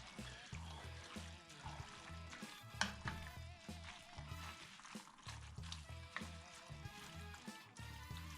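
Chili with beef and venison is stirred in a hot pot over medium-high heat, giving quiet sizzling and a soft scraping, clacking rhythm of repeated strokes, faint and close with no talking.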